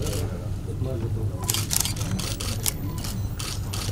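Camera shutters fire in rapid bursts of clicks from several press cameras at a film trailer and song launch photo session, the sharp clatter crowding over a murmur of people talking nearby.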